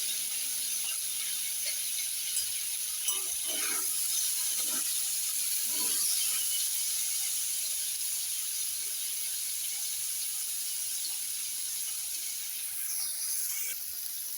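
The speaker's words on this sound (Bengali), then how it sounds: "কড়াটি গরম হয়ে গেছে, 2 চামচ ঘিয়ে পনিরটা আমি ভেজে নেব।" Pieces of paneer fry in two spoons of ghee in a hot kadai, giving a continuous soft sizzling hiss with faint occasional crackles and no one talking.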